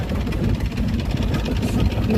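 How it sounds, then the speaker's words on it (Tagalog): A motorcycle engine running close by at a steady, rumbling idle-like pace, loud and continuous, with no talk over it. "medyo maingay nga lang ang aking video kasi nandito ako sa motor"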